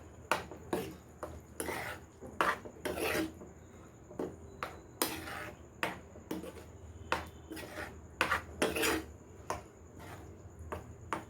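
Cooked spinach for palak paneer stirred in a pan, with repeated rhythmic scrapes and clinks of a spoon against the metal, steady strokes about every half second, close and alone with no talk.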